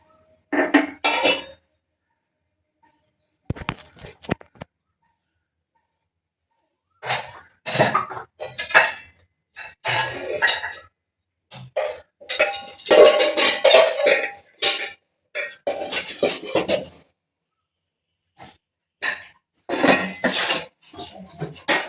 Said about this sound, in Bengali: রাইস কুকারে ভাত বসাবো দেখো